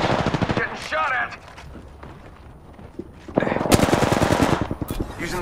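Video game gunfire: rapid automatic bursts crackle up front, pause briefly, then return as a louder sustained volley, with voices talking over the shooting.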